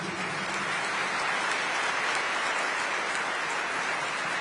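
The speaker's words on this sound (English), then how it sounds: "And now I ask everyone to applaud every great heart." A large audience at the National Archives applauds after a speech by Ukrainian President Zelenskyy, a continuous broad wash of clapping at an even level with no voices on top.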